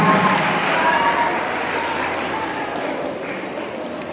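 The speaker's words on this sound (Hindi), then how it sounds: "तालियों से इस्तकबाल करें जुल्फ़कार" An audience at a college mushaira applauds to welcome a poet to the stage, the clapping dense and loud at first and then easing off slightly, with no voice over it.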